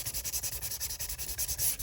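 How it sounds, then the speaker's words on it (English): A junk journal page is sanded by hand in quick, rhythmic back-and-forth rubbing strokes, soft and close, roughly eight scratchy passes per second with no talking. "sanding"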